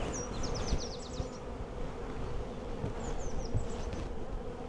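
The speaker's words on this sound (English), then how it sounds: "More bees here." Honeybees in an open hive buzzing steadily close by, a dense continuous hum with occasional higher whines from individual bees passing near.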